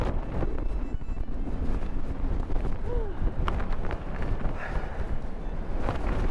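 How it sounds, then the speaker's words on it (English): Strong gusty wind buffeting the microphone on an exposed stretch of the Wild Atlantic Way, a loud, continuous rough roar with a few brief voices under it. "Oh, the wind takes your breath away."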